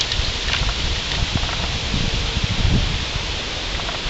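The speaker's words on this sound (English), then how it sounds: "Getting kind of windy." Wind gusting through trees and bushes outdoors, a steady broadband rustle of leaves with a few louder swells, continuous throughout with no talking.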